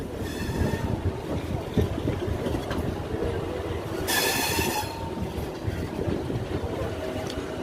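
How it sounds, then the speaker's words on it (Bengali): A 12-coach MEMU train of the Eastern Railway passes close by at a level crossing, its steady rumble and clatter of wheels filling the whole stretch, with a brief bright squeal of wheels midway. "দেখুন ট্রেন আসছে"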